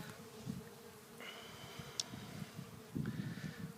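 Honey bees buzz around a swarm catch box outdoors, a steady hum of many wings with individual bees droning louder as they pass near, no talking.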